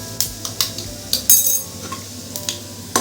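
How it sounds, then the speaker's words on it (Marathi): Red-fried garlic tempering poured into thick dal for a rustic Marathi varan phal, a faint sizzle under repeated clinks and scrapes of a metal spoon against the pot, no voices. "तर आपण आता ह्याला डाळीला आपण फोडणी देऊ।"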